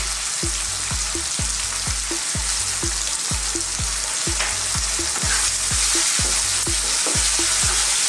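Finely minced garlic and ginger fry in oil over high heat, a loud steady sizzle broken by regular, evenly spaced scrapes of a utensil stirring the pan throughout.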